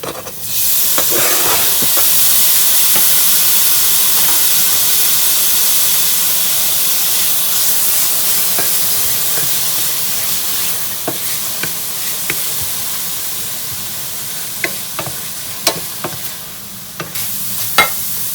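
Garlic and bacon sizzle loudly in a pan for a creamy fettuccine carbonara, with a steady hiss and scattered sharp clicks of stirring, the hiss easing slightly toward the end.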